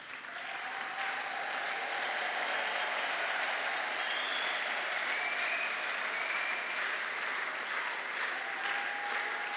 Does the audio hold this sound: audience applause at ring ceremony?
yes